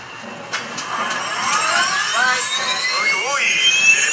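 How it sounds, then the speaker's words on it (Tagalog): A helicopter turbine engine starts up, its whine climbing steadily in pitch over a few seconds while people talk nearby. "Ramdaman ko yung makina."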